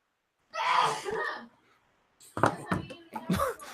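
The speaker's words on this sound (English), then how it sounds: "bless you, whoever sneezed" A sharp sneeze bursts out, followed after a short pause by a couple more loud, breathy bursts, close by, with no talking.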